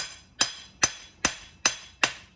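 A hand hammer polishing hot steel on the anvil at a coal forge with an electric blower, shaping an octagon in the falling heat: five evenly spaced, ringing metallic strikes about every 0.4 seconds, close and loud.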